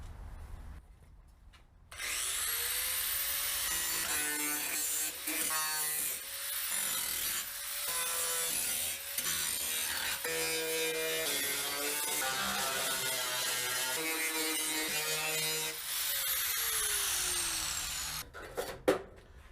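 A grinder strips paint off the firewall of a 1969 Chevrolet C10 truck to prep it for welding, a loud, harsh metallic grinding that spins up, presses and eases in uneven bursts, then winds down near the end, with no talking.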